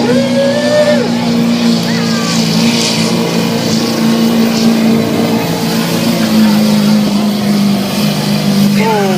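A Chevrolet Duramax diesel truck roars steadily at full power during a truck pull in Hampton, Georgia, its engine drone loud and sustained throughout.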